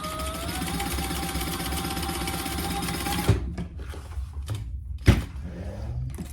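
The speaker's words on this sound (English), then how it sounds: "I backstitched a little too far there because I got offline a little bit" A sewing machine stitches and backstitches a lined boxy bag, running in a fast steady whir with a rising tone for about three seconds, then stopping, followed by a couple of sharp clunks and handling knocks.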